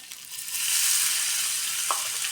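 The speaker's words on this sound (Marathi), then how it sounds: "कांदा भाजून घेऊया व्यवस्थित" Chopped onion frying in hot oil in a pan, a steady dense sizzle throughout with no voices, close and even, with a brief faint stir or scrape near the end.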